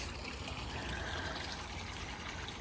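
Water trickles steadily in a garden pond, a soft continuous wash with no voices.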